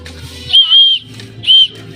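A person whistles two sharp, high signal calls after releasing pigeons into the air. The first whistle is longer and the second shorter, both loud over faint outdoor background.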